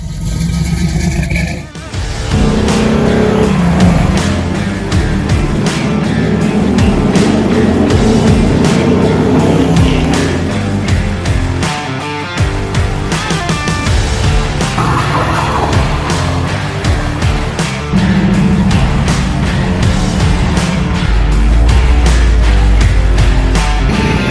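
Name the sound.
1981 Pontiac Firebird driving, dual exhaust with Thrush mufflers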